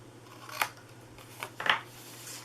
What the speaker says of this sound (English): we're going to cut off these 2 squares right here.